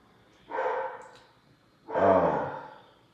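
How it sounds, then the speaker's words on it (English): A dog barks twice, two rough, fairly loud barks about a second and a half apart, with no talking over them. "Man, you hear my dog?"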